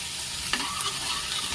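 Cashew gathiya curry with roasted cashews sizzles in a pan as it is mixed, a short quiet fry hiss with one brief scrape of a spoon.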